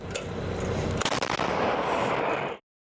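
A heavy self-propelled artillery gun firing NATO-standard ammunition booms close by, with a sharp crack in the middle of a sustained roaring rumble that cuts off abruptly.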